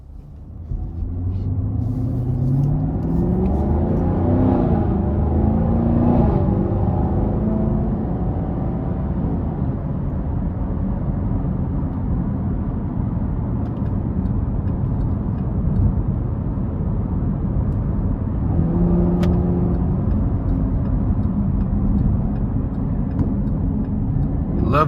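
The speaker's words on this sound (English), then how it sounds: "Let's go ahead and take this 2022 Camaro 1SS 1LE out on the road for a quick test drive." A 2022 Chevrolet Camaro 1SS 1LE out on the road, heard from inside: steady loud engine drone and road rumble throughout, with rising pitch sweeps as it accelerates through gears, no talk.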